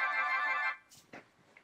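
A phone's Bloom text tone plays alone as a sustained, rich electronic swell lasting most of a second, followed by a few soft, brief trailing blips.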